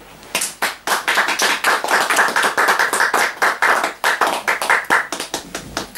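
A church congregation applauding together, a dense, steady burst of many hands clapping close and loud, with no talk over it.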